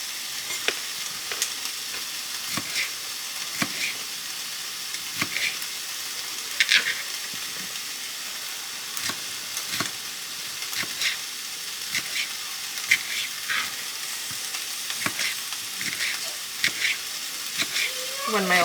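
Chicken stir-fry sizzles steadily in a pan with a constant frying hiss, broken by regular sharp scrapes and clicks of stirring.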